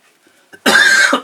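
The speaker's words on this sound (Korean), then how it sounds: "감기는 아닌데 자꾸 냄새가 나니까 기침이 나네요" A person coughs once, sharply and close, after faint breathing, reacting to oil paint fumes while painting; no speech.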